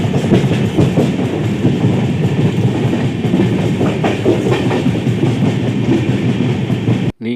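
A passenger train running from Coimbatore to MGR Chennai Central rolls into Arakkonam Junction with a loud, steady rumble and rhythmic clickety-clack of wheels on rail. It is heard up close, without talk, and cuts off abruptly at the end.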